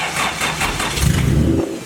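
A Honda CRX engine cranks, catches and revs up in a couple of rising surges before settling, loud and close with no talking over it.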